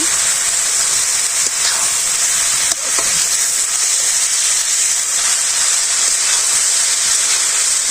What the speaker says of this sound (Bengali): চাল কুমড়াটা হালকা পরিমাণে ভাজা লাগে